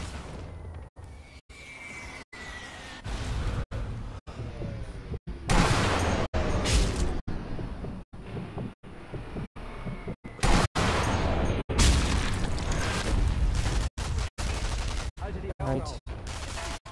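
Turret gunfire and a grenade explosion in the Sniper Elite V2 video game: bursts of rapid machine-gun fire with booming blasts, loud and chaotic, cut by brief dropouts across the whole stretch.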